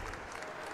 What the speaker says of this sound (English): Round of applause here at Daly's Place here in Jacksonville.